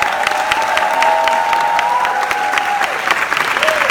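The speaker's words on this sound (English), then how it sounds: "make a round of applause for the co-creator, executive producer, Snowfall on FX" Steady, loud audience applause for a co-creator and executive producer at an FX series premiere event in Harlem, a dense clapping crowd with a little cheering running throughout.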